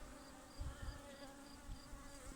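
Anatolian honeybees buzzing around an opened hive in May, a steady faint drone of many bees with no talk over it.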